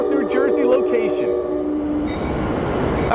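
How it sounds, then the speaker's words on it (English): A train rumbles past a hotdog restaurant in North New Jersey, loud and close, with a steady roar and squealing metallic tones that fade into broad rail noise, under faint talk. "There goes the train."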